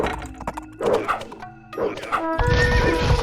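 Horse archer units in the strategy game Age of Empires, with several short whinnies and neighs amid game sound effects, then a burst of battle noise near the end.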